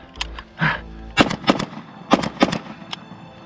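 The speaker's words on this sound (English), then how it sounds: "Blank fire guns are really designed to take a lot of the airsoftisms out of the game" Blank-firing guns shooting during a MilSim game, a series of sharp, loud cracks in irregular bursts, some in quick pairs, with a brief shout early on.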